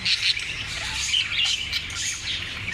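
Three plump budgerigar chicks chirp continuously at close range, a dense high twittering chatter of overlapping calls with no pauses.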